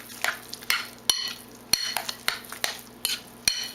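A spoon stirs chia cereal mixed with water, giving repeated close scraping and clinking strokes in a steady rhythm against a faint background hum.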